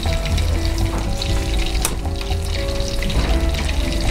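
Shrimp balls fry in hot oil in a wok for a Sichuan kung pao crystal shrimp dish, giving a loud, steady bubbling sizzle throughout with a low rumble beneath and a brief clatter near the middle.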